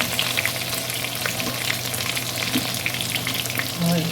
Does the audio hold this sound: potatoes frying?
yes